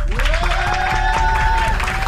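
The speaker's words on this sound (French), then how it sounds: "Applaudissements." A French game-show studio audience claps and cheers, loud sustained applause with a rising whistle-like cheer running through it, close and continuous throughout.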